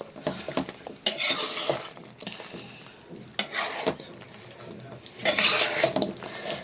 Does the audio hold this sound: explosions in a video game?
no